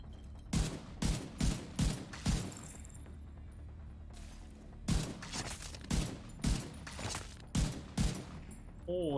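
Gunfire from The Division 2, played on PC, comes as a series of loud, spaced single shots grouped into two bursts with a short pause between them.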